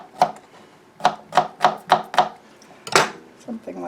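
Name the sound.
knife chopping garlic into large pieces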